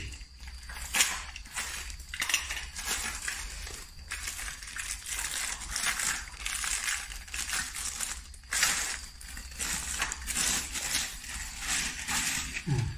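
A new LED tube lamp package being opened by hand, with close crinkling, tearing and rustling of cardboard and plastic that runs in steady bursts throughout, with no voices.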